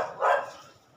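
A single short dog bark, fairly faint and heard alone.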